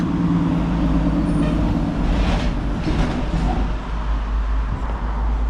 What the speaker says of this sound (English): It's that same truck. He is so fucking loud,